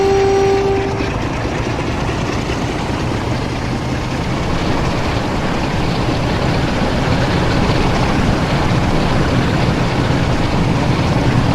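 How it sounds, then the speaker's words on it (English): Class 47 diesel locomotive 47421 pulls away with a London Euston passenger train, a loud, steady rumble and rolling rail noise throughout, with a brief horn-like tone at the start. "The London Euston service, taken by 47421, now gains the road to depart."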